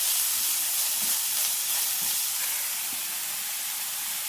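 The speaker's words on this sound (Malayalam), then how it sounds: "അതുകൊണ്ട് അതിൻ്റെ കൂടെ ഇട്ട് ഒന്ന് വഴറ്റും" Crushed ingredients sauté in a hot pan for a payar mezhukkupuratti green bean stir-fry, giving a loud, steady hiss and sizzle that carries on unbroken throughout.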